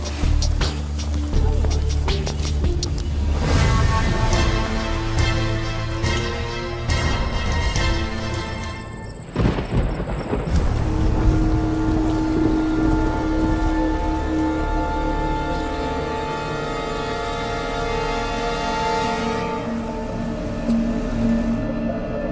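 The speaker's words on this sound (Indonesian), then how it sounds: "karena hujannya makin deras dan kita nggak bisa berdiriin tenda" Heavy rain pouring down on a mountain trail, a loud, dense, continuous wash of noise close by with scattered knocks and rustles, while voices can be heard under it.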